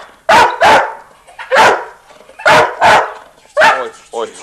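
A dog barks indoors in a home, loud and close, giving six or seven sharp barks in irregular pairs and singles, ending with softer yips.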